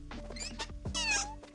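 Several short, close cat meows from the video game Catz 5, layered over a low, steady game background hum. A higher, drawn-out meow comes near the end.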